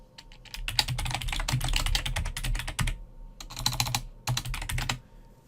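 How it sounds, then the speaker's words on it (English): Quick clattering keystrokes on a computer keyboard as a memo name is typed, close and clear, in two bursts separated by a short pause, with no talk. "You can then type the name."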